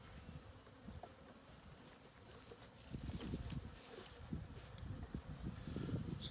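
Honeybees from a package buzz during a hive install, a continuous soft drone of many wings that grows busier and louder midway as the bees are shaken out, with outdoor rustling and no talk.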